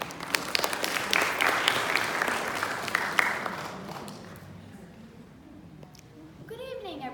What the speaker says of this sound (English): So please give a round of applause to Nidhi.